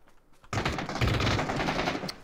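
A shotgun in the battle royale game PUBG fires in a loud, close rapid burst of blasts that starts abruptly and lasts under two seconds.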